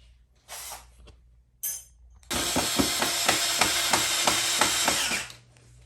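A power drill drives screws into roller blind brackets for a large double window, with two short spurts before a loud, sustained three-second run that winds down, close up and without talking.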